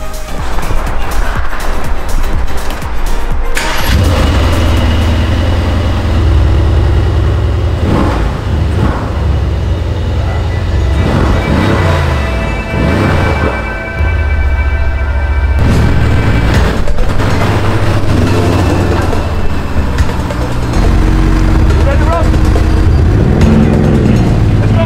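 A Mercedes-AMG GLC63 S engine cranks and fires up loudly, then revs repeatedly, rising and falling in pitch with a throaty, close roar.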